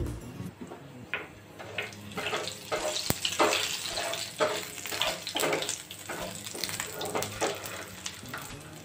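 Fenugreek, mustard and cumin seeds dropped into hot oil in a pan on the stove for a curry, crackling and sizzling in a busy, continuous hiss with scattered popping bursts close by.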